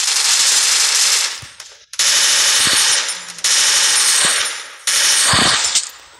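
Rapid automatic gunfire in the mobile battle-royale game Free Fire, three to four loud sustained bursts separated by short pauses, close and dominant with no talking.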